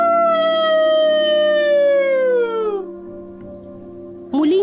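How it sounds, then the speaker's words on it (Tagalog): A long, drawn-out dog-like howl slowly falls in pitch and fades, set in a dark, overgrown forest in a Filipino aswang horror tale; a sharp, brighter sound cuts in at the very end. "Muling alulong ng isa tila aso."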